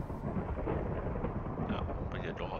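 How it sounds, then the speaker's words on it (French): Thunder from a thunderstorm, a deep broad rumble rolling continuously and loudly for a couple of seconds, with some faint higher sounds near the end. "Ah, il y a de l'orage."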